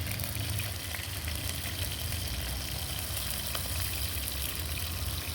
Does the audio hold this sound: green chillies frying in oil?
yes